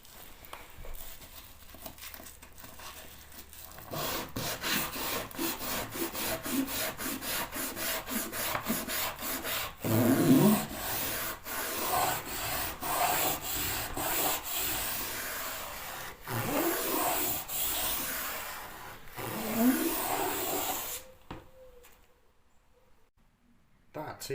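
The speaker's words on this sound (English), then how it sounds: "I need to give it a thorough sand. As close to the skirting board as I can." Oak floorboards are sanded by hand close to a skirting board, with rhythmic rasping strokes that come in bursts and pauses, close and fairly loud, before stopping near the end.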